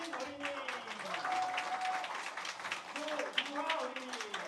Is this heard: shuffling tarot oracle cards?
no